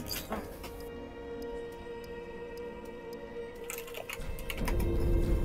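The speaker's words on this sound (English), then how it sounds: "The clicking away that you can hear in the background is Kieran being a dick." Rapid clicking from a computer keyboard as someone types in the background, a dense run of light, irregular taps with a brief pause before the keystrokes pick up again more loudly.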